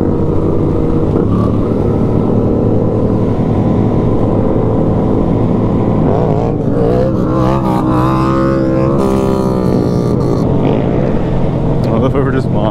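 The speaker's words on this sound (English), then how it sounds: "Monkey's just sitting there doing a burnout" A motorcycle doing a burnout during a group ride, heard as loud continuous engine roar with rising revving swells, mixed with wind and traffic noise and people talking over it.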